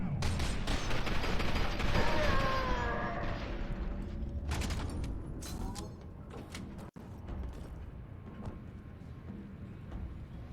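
Gunfire in the shooter game F.E.A.R. 2: Project Origin, a dense burst of rapid shots for the first few seconds that thins into scattered cracks, clanks and a sharp click over a rumbling backdrop.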